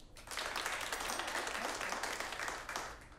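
Returning guests in a comedy club audience clap and cheer at a live comedy showdown, a full, close round of applause with scattered whoops that stays strong before tapering slightly at the end.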